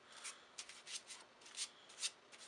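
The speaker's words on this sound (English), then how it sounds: "we can shuffle up the pack" A deck of playing cards is shuffled close up, with several quick, soft riffling bursts in an irregular rhythm, faint and dry with no voices.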